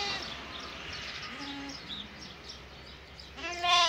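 Milk lambs and their ewes on a farm bleat as they are reunited, several scattered calls over a low background, with a louder, closer bleat near the end.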